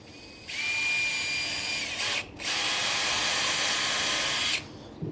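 A power drill pre-drills holes during a door installation, whining loudly in two close bursts separated by a brief pause.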